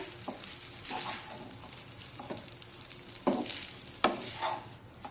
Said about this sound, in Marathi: अगदी हलक्या हाताने या शेवया हलवून घेऊया थोड्याशा खालीवर करून घेऊया